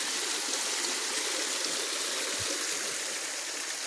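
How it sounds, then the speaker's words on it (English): A deep creek flows with a steady, broadband rush of moving water, continuous and fairly loud throughout with no voices over it. "Deep creek."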